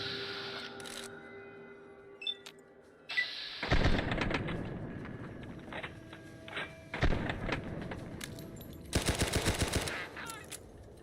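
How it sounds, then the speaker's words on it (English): Rapid bursts of submachine gun fire in Fallout New Vegas, loud and close, arriving in several separate volleys with quieter gaps between them. "Oh, this is my submachine gun."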